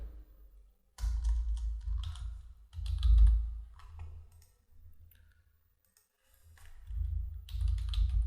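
Fingers type on a computer keyboard, entering employer details into a tax form. The keys click in several bursts separated by short pauses, with soft low thumps.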